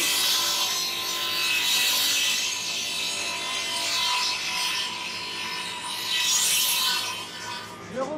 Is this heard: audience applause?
no